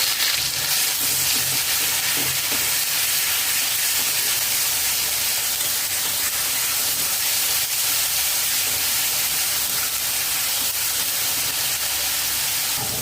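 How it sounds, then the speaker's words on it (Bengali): A ground paste of garlic and onion frying in hot oil over a low-to-medium flame, a steady loud hiss and sizzle running unbroken and close up, with no talk. "এক মিনিট ভেজে নিয়েছি লো টু মিডিয়াম ফ্লেমে"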